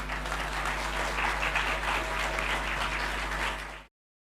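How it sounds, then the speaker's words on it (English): A large audience applauds steadily and loudly for a few seconds before the sound cuts off abruptly. "Another round of applause."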